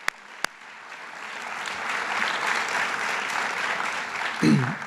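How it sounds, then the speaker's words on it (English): Sustained applause from an audience at a retirement celebration, steady clapping swelling slightly over several seconds after a couple of sharp initial claps. "Let's applaud for that."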